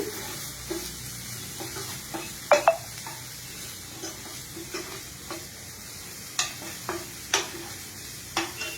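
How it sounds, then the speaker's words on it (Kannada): Garlic fries in hot oil alongside ginger, giving a soft continuous sizzle under occasional sharp clinks and scrapes of a spoon stirring against the pan. "ಈಗ ಬೆಳ್ಳುಳ್ಳಿ. ಮೂರು ಚೆನ್ನಾಗಿ ಫ್ರೈ ಆಗಲಿ, ಗೋಲ್ಡನ್ ಬ್ರೌನ್."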